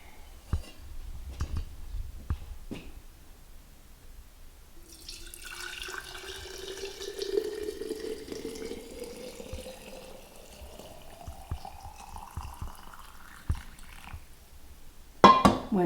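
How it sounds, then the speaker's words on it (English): Roasted turkey broth poured into regular mouth quart canning jars, a liquid stream rising in pitch as each jar fills, with clinks and taps of glass before and after. "now I'm just going to pour"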